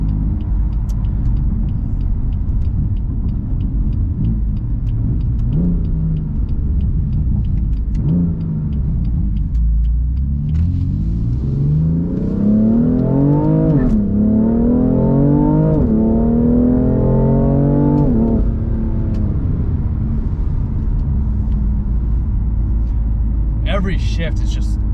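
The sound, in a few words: BMW M3 CS turbo engine accelerating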